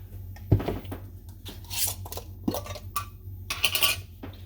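Rice and ground beef stuffing for peppers being stirred together in a bowl, with scraping and clinking of a utensil against the dish in irregular strokes, close and fairly quiet.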